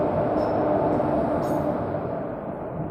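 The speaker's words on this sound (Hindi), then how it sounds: "फिलहाल देखिए एक ट्रेन का अराइवल हो रहा है" The Sangam Express arriving at a station on an Indian railway line, a loud, steady rumble of wheels and carriages rolling close by, continuous throughout with a faint high squeal near the start.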